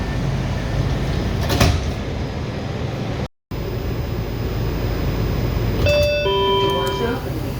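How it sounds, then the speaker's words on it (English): Washington Metro Red Line train doors slide open with a brief clunk and rumble, followed by a ringing series of electronic chimes, over steady car noise and a recorded voice announcement. "Doors opening."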